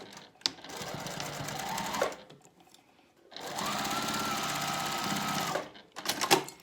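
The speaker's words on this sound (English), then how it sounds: "I prefer using my sewing machine." A sewing machine whirs in two steady bursts of stitching, each running about two seconds, with a short pause between and a brief clatter at the end.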